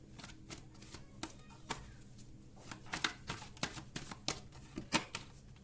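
Tarot cards are handled, shuffled and drawn in a run of close, quick papery flicks and taps that grow busier toward the end, with no speech.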